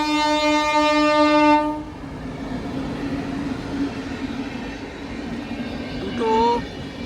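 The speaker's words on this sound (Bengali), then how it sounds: "এই যে ট্রেন যাচ্ছে" A train at a railway level crossing gate gives a loud, sustained horn blast at the start, then rumbles steadily past nearby, with a shorter horn sounding near the end.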